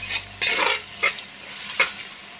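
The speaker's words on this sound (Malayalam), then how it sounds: "എന്നിട്ട് ഇത് ജസ്റ്റ് ഒന്ന് ബ്ലെൻഡ് ചെയ്തിട്ട് ഒന്ന് ബ്രൗൺ കളർ ആകാൻ വെക്കാം." Spices and turmeric stirred in a hot pan for a Kerala fish curry, giving three or four close scraping stir strokes over a soft sizzle, with no talking.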